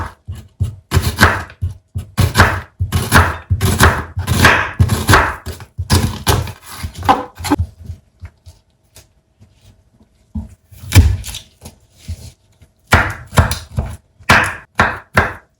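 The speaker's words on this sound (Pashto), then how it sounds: "دا یې هم غوښه او پیاز به م ورته میده کړم." Rapid knife chopping of meat and onion on a board for a chicken sandwich, loud, close and steady for several seconds, pausing briefly and then resuming in quick, even strikes.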